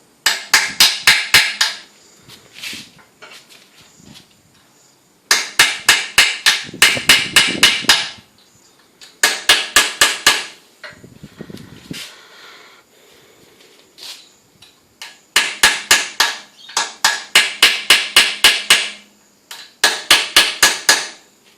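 A hammer strikes a punch to tighten a motorcycle head stem nut in sharp metallic blows, struck in fast bursts of about eight taps with short pauses and faint handling noises between.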